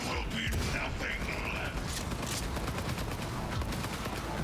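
Rapid bursts of gunfire from enemies in the video game Cyberpunk 2077, a dense, loud fusillade of overlapping shots sustained throughout, with faint speech underneath.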